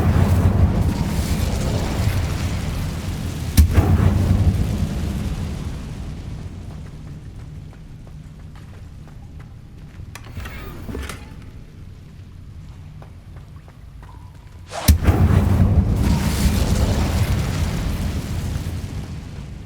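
A fiery Incendio spell blast erupts in Hogwarts Legacy with a loud burst, dies into a rumbling hiss, then a second explosive whoosh follows and fades under steady low roar.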